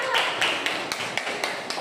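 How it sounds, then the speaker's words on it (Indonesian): A classroom claps in unison for group 1: sharp, evenly spaced beats about four per second from many hands, close and fairly loud over a faint background murmur. "Tepuk tangan dulu untuk kelompok 1."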